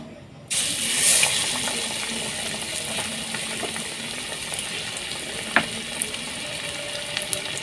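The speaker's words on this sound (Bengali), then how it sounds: "আর এই যে তেল গরম হয়ে গেছে প্রায় আমি একটা একটা করে আলুর ভেজে নেব" Potato chops frying one by one in hot oil, a dense bubbling sizzle that jumps up as a piece drops in, then holds steady with scattered crackles and small clinks.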